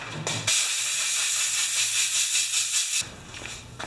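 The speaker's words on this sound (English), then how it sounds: "Let me squirt that out." A spray can hisses in one continuous, loud burst for about two and a half seconds, sprayed on a damaged Poulan Pro lawn mower, with brief quieter moments before and after.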